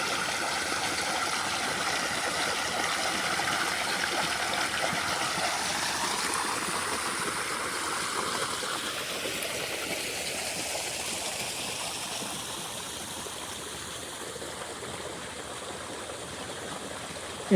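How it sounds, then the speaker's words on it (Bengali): Water gushing from the 3-inch delivery outlet of an ACI 2 hp 220-volt centrifugal pump in Bangladesh, a steady, dense rushing splash that continues without a break, close and even throughout, with no voices. "পাম্পের পানির ডেলিভারি।"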